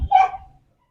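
A single dog barks once, a short sharp bark close by, alone with no talking.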